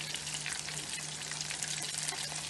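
Food frying in a pot on a stove, a dense, constant sizzle and crackle that stays loud and even throughout, with a low steady hum underneath.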